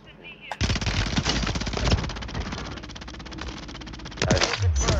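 Rapid automatic gunfire in an online shooter game, a loud sustained burst of closely spaced shots lasting several seconds, followed by a couple of sharper single reports near the end.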